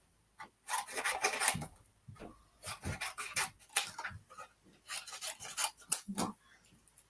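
Paper being cut during a painted-lavender craft workshop: repeated rasping, scratchy cutting strokes in short clusters with brief pauses, close by and moderately loud, with no talking.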